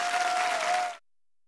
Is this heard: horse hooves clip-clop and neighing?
no